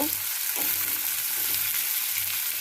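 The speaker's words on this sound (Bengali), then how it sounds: "পেঁয়াজটা তেলের মধ্যে দিয়ে আমি 30 সেকেন্ড মতো ভেজে নিয়েছি।" Chopped onion frying in hot oil with melted sugar, a close, even hiss and sizzle with a few soft stirring scrapes, no voices.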